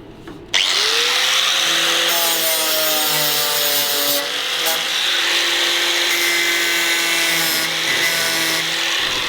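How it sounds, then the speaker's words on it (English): Sheet metal being cut with a power tool during fabrication on a 1942 Cadillac Fleetwood: a loud, steady whining cut that starts abruptly and runs on with shifting pitch. "So we'll cut a piece of metal to go in there."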